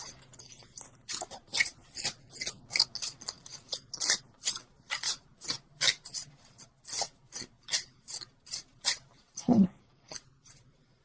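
Tarot cards are shuffled and handled from a deck, making a rapid series of crisp, papery riffles and slides in quick bursts close to the listener, with no talking over them.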